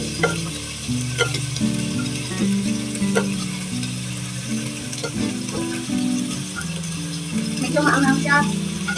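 Eggs frying in a pan with carrots and potatoes for adobong itlog, a steady sizzle broken by clinks and scrapes of a utensil stirring, with faint talk in the background.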